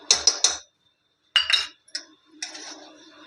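A spoon stirs mango pulp and semolina in a pan over a low flame, making short bursts of metallic clinks and scrapes: a quick triple clatter, a pause, then several more scattered knocks.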